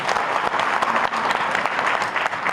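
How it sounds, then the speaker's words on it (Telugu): Audience applause at a student merit award ceremony held in New Ambedkar Bhavan: dense, steady clapping from many hands that fills the whole moment at an even, fairly loud level. "ఒక్కసారి గట్టిగా చప్పట్లు కొట్టాలి."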